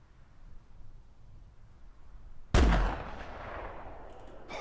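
A single loud rifle gunshot fired from a crouch while hunting in theHunter Classic, a sharp near blast after quiet ambience, followed by a fading echoing tail over the remaining seconds.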